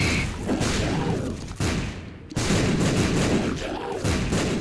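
Video game explosions, from a match with spinning, exploding scythes, boom in heavy, loud blasts, one after another, with rumbling low ends that fade, and a sharp cut between bursts.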